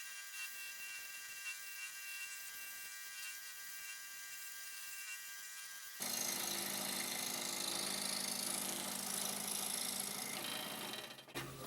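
A scroll saw cuts an inlay piece from wood with a steady, buzzing reciprocating drone that jumps to a louder, denser whine halfway through, then drops off abruptly near the end; no one speaks.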